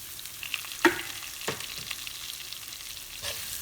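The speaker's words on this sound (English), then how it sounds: "Saute well." Cashews, dals and curry leaves sauteing in a pan for coconut rice, giving a soft steady sizzle with one sharp stir or clink near the start and a few fainter scrapes later, with no voices.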